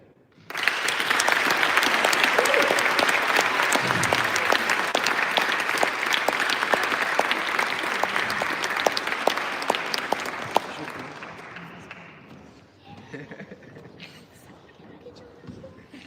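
Audience applause after a TEDx talk at LCC University, a dense, loud ovation from a large crowd that sustains for about ten seconds and then thins and fades into room murmur and a few scattered claps.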